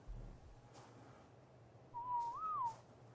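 The neutral whistle command in the ARK video game sounds as a single clear whistled tone that rises and falls, alone over quiet background hum.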